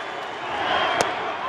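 A baseball crowd at a Giants–Dodgers game in Los Angeles stands and cheers for Manny Ramirez at the plate, a steady broad roar of the stadium filling the whole moment with one sharp crack partway through.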